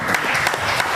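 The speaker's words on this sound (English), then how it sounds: "Let's clap it up for him." Applause for Athletic Director Gavin Regan at a live coaches show in a brewery, a short burst of dense, close clapping from a small crowd.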